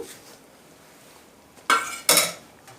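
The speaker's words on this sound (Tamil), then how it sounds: "இப்போ வந்து நம்ம பன்னீர் சேர்த்துக்கிடலாம்." Paneer is dropped into masala gravy in a pan and mixed, two sharp clattering scrapes of a utensil against the metal pan after a quiet stretch.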